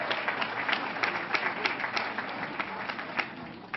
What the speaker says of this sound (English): So a big round of applause for all these wonderful people.